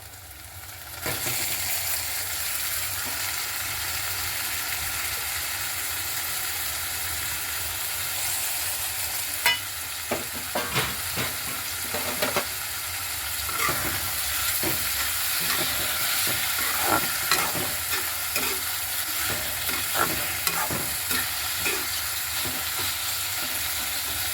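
Onions and tomatoes fry in a pan for a bitter gourd kootu, a constant loud hiss of sizzling oil with a run of spatula scrapes and knocks in the middle stretch.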